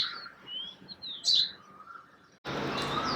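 House sparrows chirping at sunrise, with scattered high tweets and short calls, one louder burst midway, before a sudden broad rush of noise takes over near the end.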